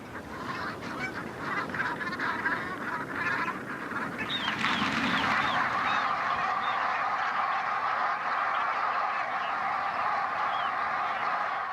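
A large flock of geese honks continuously on the windswept North Sea coast, a dense overlapping chorus of calls that stays loud and steady throughout, with no voices.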